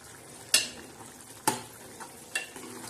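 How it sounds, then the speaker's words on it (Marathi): Chana dal being stirred in a pan while it cooks, giving three sharp scraping strokes about a second apart over a soft, steady background sizzle, close and fairly quiet. "तर ह्या पद्धतीने अशी डाळ हलवून घ्यायची मस्त"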